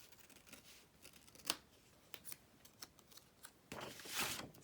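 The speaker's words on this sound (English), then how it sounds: "So just going to cut out a square." Scissors snip through paper while cutting out a square for a holiday card ornament: a run of crisp, close cuts at an uneven pace, ending in a longer, louder slicing stroke, with no talking.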